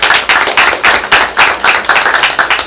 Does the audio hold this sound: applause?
yes